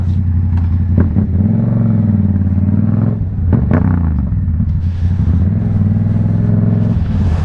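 Yamaha MT-07 motorcycle engine revving hard up close on a ride, a loud rumbling twin with repeated throttle blips and sharp clattering transients, the tone swelling and dropping through several revs.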